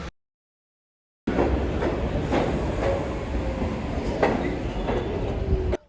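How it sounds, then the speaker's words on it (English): An NYC subway N train pulls into Whitehall Street–South Ferry station on a weekend reroute, arriving as a steady close rumble with clacking wheels and faint squeals, after a brief near-silent start. "here the N train comes to Whitehall Street South Ferry."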